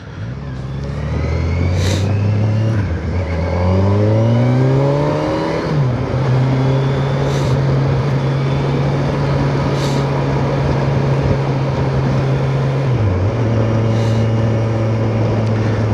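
A 2021 Kawasaki Versys 1000 motorcycle engine pulls hard in fourth gear at a demo day, a loud, steady droning roar that climbs in pitch, briefly dips as the throttle eases, then holds high with wind rush.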